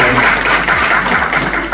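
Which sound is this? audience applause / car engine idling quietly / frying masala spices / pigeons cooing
audience applause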